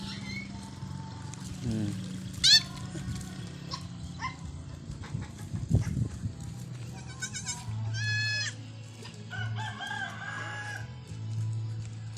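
Farmyard animal calls overlap, with bleating goats, a crowing rooster, and other chickens and dogs calling over a low steady hum.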